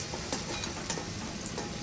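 Cauliflower florets frying in hot oil give off a steady, close sizzle with a few soft stirring clicks, and no one speaks.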